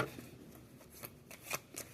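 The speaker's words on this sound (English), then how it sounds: "I'm shuffling one more time, and then I'm just taking them off the top." Tarot cards being shuffled by hand, a few soft papery riffles and flicks spaced irregularly over a quiet background, close and faint.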